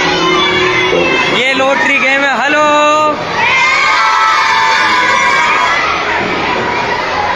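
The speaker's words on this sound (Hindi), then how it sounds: "यहाँ भी भीड़ हो रही है" A dense crowd of children at a school fair game zone shouts and chatters loudly and continuously, with excited cries rising over the din and a nearby voice speaking over it.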